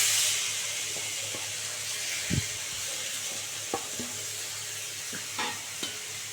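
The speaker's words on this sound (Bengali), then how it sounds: "একটু নাড়াচাড়া করবো।" Grated papaya fries in a pan for a wedding-style chutney, sending out a continuous bright sizzle and hiss punctuated by several scraping stirs and a spoon knock, close up with no speech.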